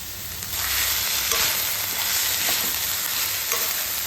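Green chillies and curry leaves sizzle steadily in hot oil in a pan while making a home-style mutton curry, with occasional stirring scrapes; a continuous, close, fairly loud crackle with no talking.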